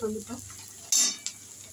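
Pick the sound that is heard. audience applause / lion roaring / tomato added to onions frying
tomato added to onions frying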